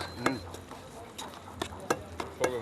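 Raisins and flaked almonds for a Christmas cake are mixed together in a bowl, giving soft scraping and stirring rustles with a few light clinks of a utensil at an irregular pace.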